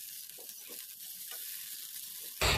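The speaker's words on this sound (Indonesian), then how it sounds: "Kemudian masukkan susu yang tadi sudah dilarutkan dengan air sebanyak 100 ml." Sausages sizzle steadily in a frying pan, then milk diluted with water is poured in, bringing a sudden louder hissing rush at the end.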